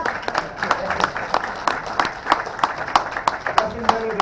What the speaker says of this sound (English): Nothing better than pity applause.